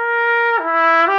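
A warm-up on a single instrument starts with an easy sustained note, then moves through held tones that step down and back up in pitch, clear and close with no other sound.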